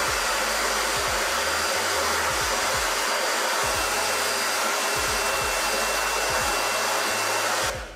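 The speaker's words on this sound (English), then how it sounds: "Take your blow dryer," A handheld blow dryer runs steadily and loudly for the whole stretch, a constant whirring airflow with a faint high whine, and no speech.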